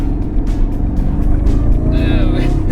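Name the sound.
Jaguar car engine under throttle, locked in third gear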